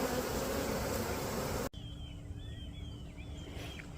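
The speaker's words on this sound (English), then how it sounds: "we got that swarm we just caught. We got it in our secondary apiary now" A captured swarm of honeybees in a hive at an apiary: a loud, dense buzzing hum close by that cuts off abruptly, then faint scattered buzzing and insect whines.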